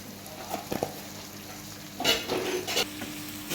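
Minced meat with spices and black pepper stirred in a pan, a soft sizzle beneath a few clinks of a utensil and several scraping strokes.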